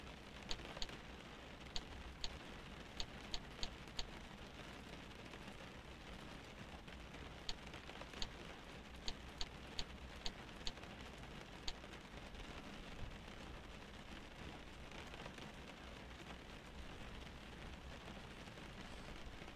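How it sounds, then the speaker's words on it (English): Steady rain in Flight Simulator with a Level-D 767-300 cockpit, a dense continuous hiss of drops with scattered brief sharp ticks, fairly quiet and unbroken by talk. "the sound of the rain sounds soothing"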